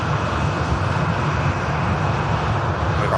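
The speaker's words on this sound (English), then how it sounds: "Beautiful NetJets Bombardier Global 6500 coming in from Nice." A NetJets Bombardier Global 6500 business jet arriving at Manchester Airport from Nice, its engines a loud, steady, broadband roar that holds without a break, with no voices over it.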